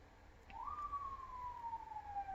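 A siren wails in the distance, a single faint tone that swells in and then slowly glides downward, sitting behind a quiet low background hum.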